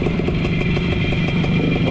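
A WSK 125 motorcycle, a Polish two-stroke, runs close by at a steady putter with a fast, even, rattly beat and no pauses, heard on its own at a rally.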